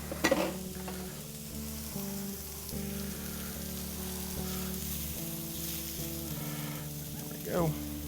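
Fresh eggs fry with garlic on a hot griddle, a steady close sizzle running throughout with a few stirring scrapes and a brief louder clatter near the end.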